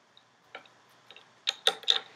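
A guitar tuning peg is wound to loosen a string, giving a few faint, quick clicking ticks that cluster more densely toward the end, heard alone and close up.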